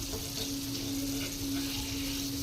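Bombay duck (mandeli) fish frying in a pan gives a steady, close sizzle with soft crackle and a faint hum underneath, with no one speaking.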